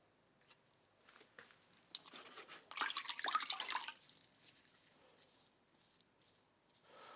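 A Damascus steel blade is rinsed in water after etching in ferric chloride: soft drips and light squishy splashing, then a brief louder burst of sloshing before it settles back to quiet trickles.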